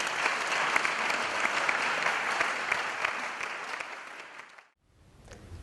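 A church congregation claps loudly and continuously, a thick wash of many hands that fades slightly before cutting off abruptly near the end, followed by a brief quieter moment.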